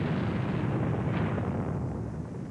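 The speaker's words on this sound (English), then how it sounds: "There was a terrific explosion" A radio tower blown up by demolition charges, heard as a continuous deep, rumbling roar that stays loud and broad across the whole stretch with no distinct onset, like the sustained boom of a large explosion.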